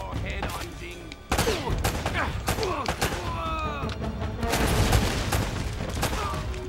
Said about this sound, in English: Oh, I can just use my pistol on these guys.